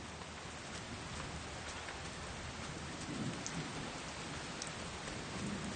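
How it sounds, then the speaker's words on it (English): Steady rain falls continuously, a soft even patter with no voices. "If the fox is not to starve, she must get whatever food she can before the rain gets heavier."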